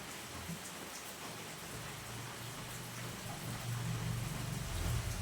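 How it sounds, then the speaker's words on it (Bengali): Steady heavy rain pours down in a dense, unbroken hiss, growing slightly louder toward the end, with no voices. "কি পরিমাণে বৃষ্টিটা হচ্ছে দেখতে পাচ্ছ,"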